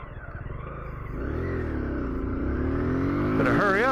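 Kawasaki Z125 Pro motorcycle engine droning steadily while riding, pitch climbing as it revs up toward the end, loud and close throughout.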